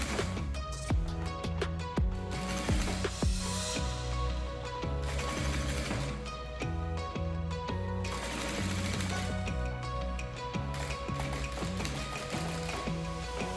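Sewing machine stitching a seam on a simple beginner's bag, running in quick rhythmic bursts with short pauses between runs, close and clear over a layer of background music.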